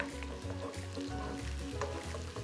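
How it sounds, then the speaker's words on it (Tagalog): Garlic and onion sauteing in a pan, a soft steady sizzle with faint scraping stirs, quiet and close. "Saute until it is aromatic."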